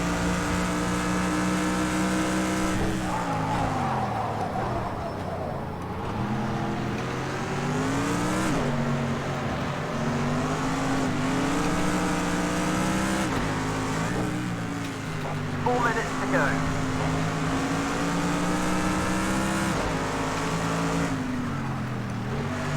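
Race cars in Project Cars 2 howl around Fuji in a continuous, loud engine drone, with revs rising and falling through gear changes and other cars close by, while a voice speaks over the racing.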